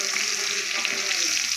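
Chopped onion frying in hot oil in a pan while making a spicy vegetable curry, giving a steady, close hiss of sizzling fat with faint clinks beneath, no speech.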